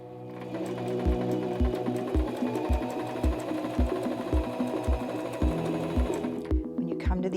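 A SINGER M3400 sewing machine stitches fabric in a fast, even mechanical chatter with regular low thumps, running steadily before stopping near the end.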